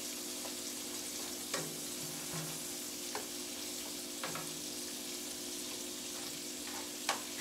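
Carrots frying in a pan for fried cabbage, giving a soft, steady sizzle with a constant low hum underneath and a few sharp clinks of a utensil scattered throughout, with no talking.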